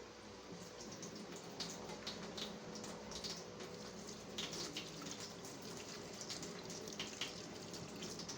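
Water pours steadily from a tap into a blender or bowl while rice and salt are being prepared in a home kitchen, a continuous splashing rush of moderate loudness with small bubbling bursts throughout.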